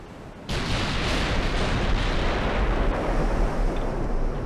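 Warship turret guns fire a heavy broadside in the naval game Ultimate Admiral: Dreadnoughts, starting with an abrupt blast after a short quiet moment. A loud, sustained rumble follows, with no voices.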